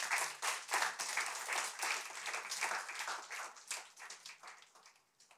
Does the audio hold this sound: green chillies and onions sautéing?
no